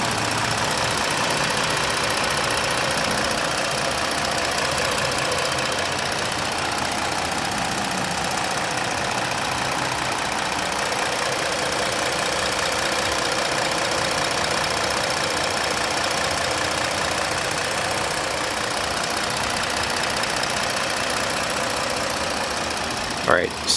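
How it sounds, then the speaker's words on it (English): A 2017 Ford Explorer Police Interceptor, a highway patrol vehicle, idles steadily with the hood open, a constant mid-pitched engine hum and faint ticking that holds evenly throughout, ending with a brief clunk. "I'll go ahead and shut up so you can listen to the engine right now"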